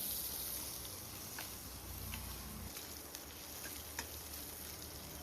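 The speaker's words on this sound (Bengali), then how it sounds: "রসুনটা একটু লাল লাল করে ভেজে নেব।" Crushed garlic fries with radhuni and black cumin in a kadai, giving a soft, steady sizzle and crackle with a few faint stirring clicks and no voices.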